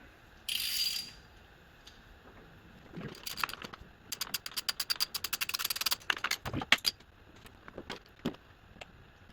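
Ratchet with a swivel turning on a 1979 VW Beetle during a fuel injection to carburetor conversion: a brief hiss, then rapid runs of close, crisp clicking strokes with short pauses between bursts, no talking.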